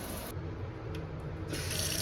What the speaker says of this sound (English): Normal water pressure, normal shower.